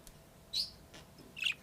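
A pet budgerigar gives a few short, high chirps, two of them clearer than the rest, spaced apart over a quiet room background.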